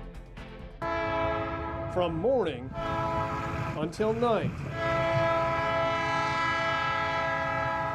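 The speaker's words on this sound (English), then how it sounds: "train whistles blast through this neighborhood in North Fond du Lac" A loud, sustained train horn blares at a neighborhood crossing with steady harmonic tones for several seconds, while someone speaks briefly over it.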